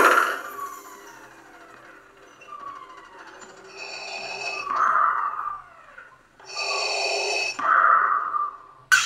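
Darth Vader lightsaber replica with a Proffie sound board playing its pre-on effect: a breathy, rasping mechanical respirator sound in a few slow swells, with faint whistling tones between them.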